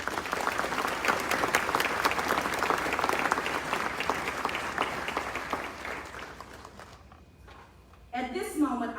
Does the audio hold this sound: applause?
yes